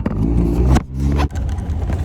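A Honda CRX Si fitted with an aftermarket exhaust revs loudly up close in two blips, dropping sharply between them, then settles into a throaty idle.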